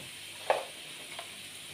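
A soft, steady sizzle of potatoes frying in oil, quiet and continuous with a few faint clinks.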